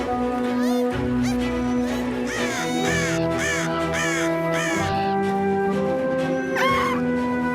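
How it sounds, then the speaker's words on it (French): Cartoon crows cawing loudly over a music score, a rapid run of harsh repeated caws clustered near the start and middle, then one more call near the end. "Wombly est en train d'éloigner les corbeaux."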